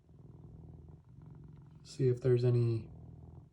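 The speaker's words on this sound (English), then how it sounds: "he hasn't stopped purring this entire time" A cat recovering from surgery purrs softly and steadily in the background, while a person speaks briefly over it.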